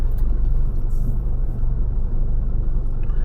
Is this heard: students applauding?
no